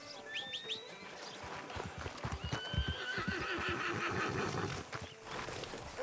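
A horse in the open-world western game Red Dead Redemption 2 neighs with high, wavering whinnies near the start, over hoof clip-clops and soft outdoor ambience, with a second, fainter whinny following.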